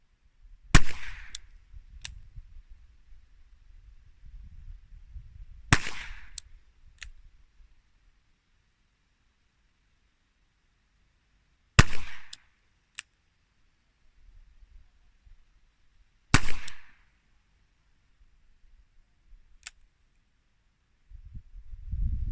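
A Colt Police Positive revolver fires 125 grain bullets single action at 5 yards, with four sharp, loud shots spaced several seconds apart and quiet handling noise between them.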